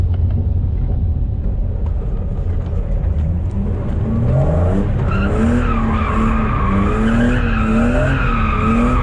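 A car fitted with a ZF gearbox and welded differential skids hard, engine roaring loud and steady while tires squeal in rising, wavering tones through the second half.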